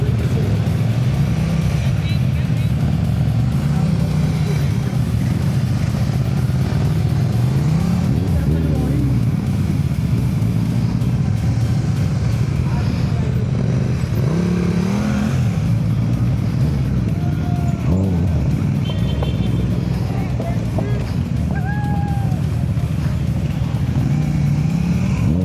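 Motorcycles of different types running at low speed during balance drills at a national riding skills competition, engines droning steadily with small throttle swells throughout, while people talk nearby.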